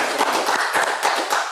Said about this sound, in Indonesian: tepuk tangan macam rapat paripurna